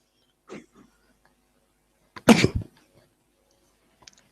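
A single sharp sneeze bursts out loud and close, preceded by a brief faint vocal sound and followed by near silence with a tiny click at the end.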